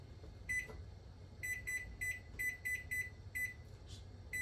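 A quiet electronic timer chirps in a string of short, repeated beeps with uneven spacing over low background hum.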